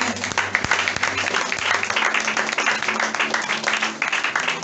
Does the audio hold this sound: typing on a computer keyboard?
no